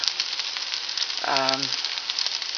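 Cabbage and bacon fry in a pan with a steady, close sizzle throughout, and a voice speaks briefly over it.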